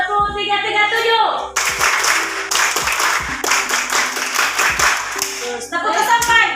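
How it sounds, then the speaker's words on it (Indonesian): Children in a classroom clapping a 3-3-7 rhythm, loud grouped claps in quick sets broken by short spoken cues from a teacher and children's voices. "ayo tepuk 3, 3, 7"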